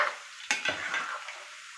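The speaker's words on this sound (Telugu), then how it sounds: "ఇలా వేసుకుంటే మనకి ఫ్రై అవ్వటం డీప్ ఫ్రై బాగా అవుతాయి అన్నమాట" Onion pakodi deep frying in hot oil, heard as a close, steady bright sizzle with a couple of sharp clinks of a spoon against the pan.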